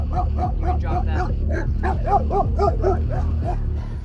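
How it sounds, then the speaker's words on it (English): A leashed German shepherd in a parking lot barks aggressively in a rapid, relentless string of loud, close barks and yips, with people talking over the noise. "She's in the front parking lot barking at absolutely everything and everybody."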